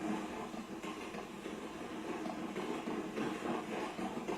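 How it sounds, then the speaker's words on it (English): A steam locomotive chuffs in a steady rhythm as it pulls rocking coaches, with a diesel coupled at the rear, heard continuously at moderate distance with some rail clatter. "Oh, that's an awesome chuffing rhythm"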